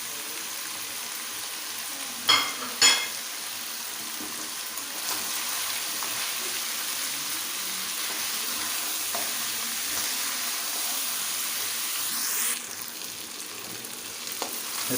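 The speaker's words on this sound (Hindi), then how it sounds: "इसको हम अच्छी तरह से भून लेते हैं। मसाले इसके अंदर शामिल करते हैं।" Meat frying with spices in a pot for Kabuli pulao, a steady close sizzle with a few sharp stirring clatters early on; continuous and fairly loud, no voices.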